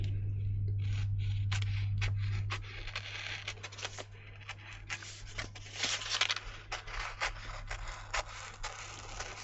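Large scissors snip through card while making bookmarks at a craft table, giving a run of short, close, dry cutting and scraping strokes in an irregular rhythm after a steady low hum at the start; no one speaks.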